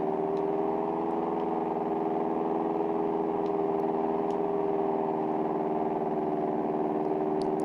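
Seaplane engine in Grand Theft Auto Vice City droning steadily and continuously, a smooth, loud buzzing hum with no change in pitch.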